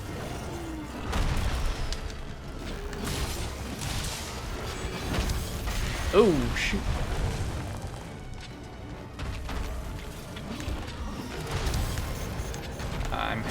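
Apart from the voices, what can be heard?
explosions in Monster Hunter video game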